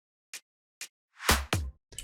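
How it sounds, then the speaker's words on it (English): Electronic house drum fill: two short crisp clap-like hits, then a swelling noisy burst and heavy booming tom hits in quick succession, close and dry with no talking. "with a clap and some toms."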